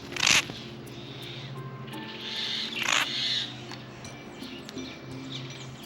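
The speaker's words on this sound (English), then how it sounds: "I just appreciate the sounds of the birds" Outdoor birds calling, a few scattered chirps and hoots over steady background hum, moderately loud and close.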